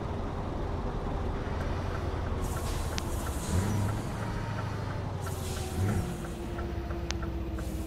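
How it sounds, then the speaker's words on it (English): A truck engine in the video game Euro Truck Simulator 2 drones steadily at a low pitch with a faint rise in revs, a constant rumble running the whole way through. "Sounds alright, this truck."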